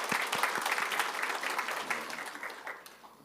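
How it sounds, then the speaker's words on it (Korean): A church congregation claps together during a Sunday worship service, a dense burst of many hands that gradually thins and fades toward the end. "우리 다시 한번 하나님께 박수로 영광 올리시겠습니다"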